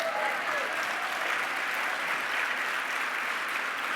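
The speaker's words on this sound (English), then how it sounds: "yeah, we should clap for her." A large crowd at a political gathering applauds steadily, a thick continuous wall of clapping and cheering sound that holds level throughout without pauses.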